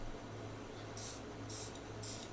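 A spray can hisses in three short, evenly spaced bursts, each about a fifth of a second, over a steady low electrical hum.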